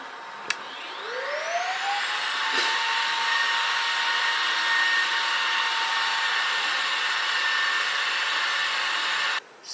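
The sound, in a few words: Roomba robot vacuum emptying itself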